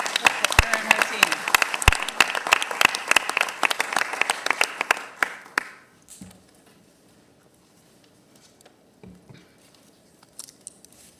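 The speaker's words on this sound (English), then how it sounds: "let's give her a round of applause" An audience at a county commissioners meeting applauds during a proclamation presentation. The claps are sharp and distinct, fading out after about six seconds into near silence, with faint voices and movement afterward.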